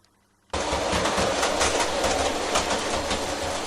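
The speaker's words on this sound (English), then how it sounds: "The Manchester through train departs from the Fiddle Yard and arrives at the terminus behind the B4." Model railway train departing the fiddle yard, a sudden onset of continuous bright whirring and rattling that runs steadily and close after a near-silent moment.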